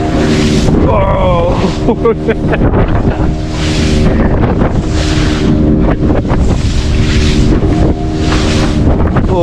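A boat on a ride off Malvan in Konkan slams over sea waves, with loud wind buffeting, rushing water and engine drone, and voices talking over the din.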